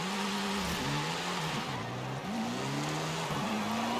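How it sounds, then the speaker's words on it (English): A hot hatch in Forza Horizon 5 spins its wheels, with a revving engine whose pitch repeatedly rises and falls as the tires break traction, loud and close, with no voices. "Lots of wheel spin, which again is fine."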